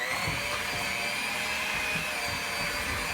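A KitchenAid electric stand mixer whirs steadily while mixing chocolate chip cookie dough, a continuous motor drone of even loudness with no pauses and no talking.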